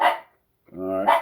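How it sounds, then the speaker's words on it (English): Dogs bark loudly and close by in two bursts with a silent gap between them, and a voice speaks over the second burst. "sorry about the dogs"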